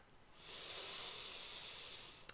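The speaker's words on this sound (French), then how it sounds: "tu relâches et tu souffles" A slow, steady exhale of breath during a calming relaxation exercise, a soft airy hiss that swells and holds for about two seconds, close and quiet, with no talking.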